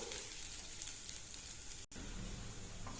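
Black urad dal dry-roasts in a pan over a low flame for idli podi, making a quiet, continuous light sizzle with faint stirring, broken by a brief cut partway through.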